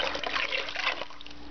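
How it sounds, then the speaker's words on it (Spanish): Cold water pours in a brief steady trickle onto strained cocona and peach pulp for juice, a close splashing stream that softens toward the end. "aquí tenemos la pulpa ya colada de la cocona con el durazno, y añado el agua fría"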